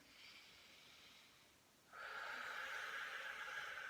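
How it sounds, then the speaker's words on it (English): A long, deep breath drawn in through the nose during a chest and shoulder stretch on a foam roller, close and soft, rising into a louder airy intake that holds steady, with no talking. "So taking a deep breath in."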